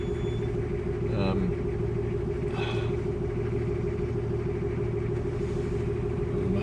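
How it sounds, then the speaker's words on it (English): Toyota Hilux engine rumbling at low revs as it crawls slowly over a rocky off-road obstacle, a steady droning hum with brief speech mixed in. "So the Hilux is attempting this little rocky obstacle."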